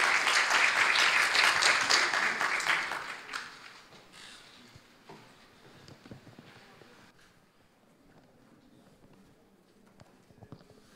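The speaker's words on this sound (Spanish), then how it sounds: "Un nuevo aplauso para Jorge." Warm applause from the audience at a journalism seminar swells loudly for about three seconds, then fades into a quiet room with a few scattered taps and faint shuffling.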